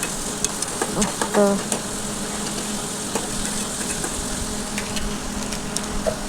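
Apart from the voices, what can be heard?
onions and tomatoes frying in oil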